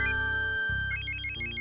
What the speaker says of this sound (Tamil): மாமா ஃபோன் பண்றாரு.